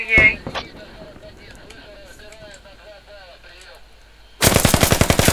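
Gunfire in a video game bursts in near the end as loud, rapid, evenly spaced automatic shots, after a quieter stretch of game sounds and a brief voice at the start.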